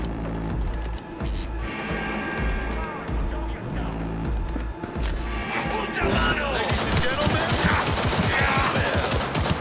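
Rapid bursts of video game gunfire crackle loudly and nearly continuously over a busy, layered game mix, with speech mixed in.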